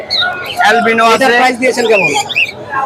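A tame bird whistles and chirps at a busy Friday bird market in Mirpur, bright squawky trills up close, loud and continuous over a few seconds.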